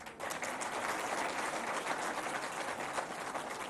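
Audience applause at a public event addressed by Pakistan's Prime Minister Shahbaz Sharif: steady, dense clapping from a large crowd that fills the whole stretch without a break, with no speech over it.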